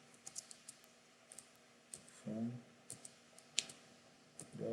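Keys clack on a computer keyboard in short irregular bursts mixed with mouse clicks, close and quiet, with a brief low murmur partway through.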